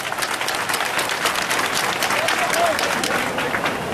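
A crowd at a political party gathering in Dogbo applauds its 28 deputies, with steady, loud clapping and cheering voices mixed throughout.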